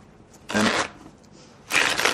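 Two quick bursts of playing cards being shuffled by hand, each a crisp riffling flutter lasting about a quarter second, close up with near silence between them.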